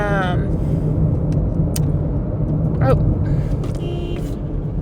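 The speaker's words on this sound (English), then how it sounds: "This logger truck almost just hit me." A logging truck roars past very close on the road, a loud continuous rumble of heavy traffic noise filling the whole moment, with a brief squeal over the top.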